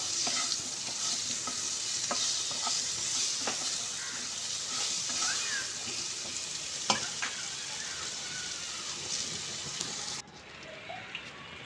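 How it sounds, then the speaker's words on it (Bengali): Potatoes with spices and Kashmiri chilli powder being stirred and fried in a pan: a steady soft sizzle with scraping stir strokes and occasional taps, fairly quiet, stopping abruptly near the end. "দিয়ে আলুটার সঙ্গে খুব ভালো করে মিশিয়ে নেব"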